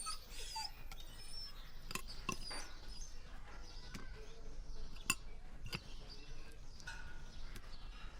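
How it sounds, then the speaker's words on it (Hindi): A newly arrived imported dog whimpers softly in a Hindi film scene during obedience commands, with thin whines broken by sharp clicks and thumps over steady background noise. "नया कुत्ता है,"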